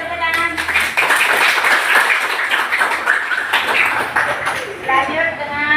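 A class applauds after a student presentation, a loud, close burst of many hands clapping steadily through the moment with some voices mixed in.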